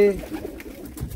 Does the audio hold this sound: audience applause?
no